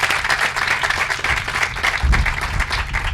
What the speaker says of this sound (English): So round of applause for Les.